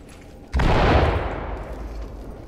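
In the tactical shooter Ready or Not, a flashbang grenade detonates with a sudden loud bang that swells into a rumbling, crackling blast and slowly decays over a couple of seconds.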